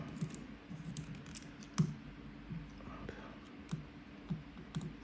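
Small screws being backed out of the internal board of a Nintendo Switch Lite, a series of faint close clicks and ticks spaced irregularly over a low steady hum.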